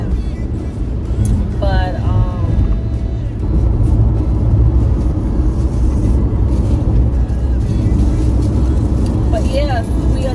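A car drives steadily along the road, its engine and tyre rumble loud and continuous from inside the cabin, with people talking over it.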